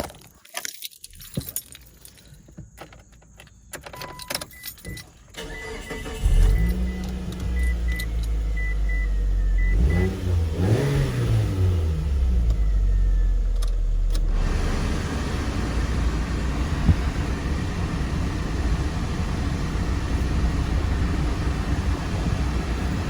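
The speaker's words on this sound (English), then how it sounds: "Let's go ahead and turn on the car." A 2011 Mitsubishi Eclipse cranks and starts after a drive belt and tensioner replacement, preceded by keys jangling and clicks, then settling into a steady close idle with a brief rev around the middle.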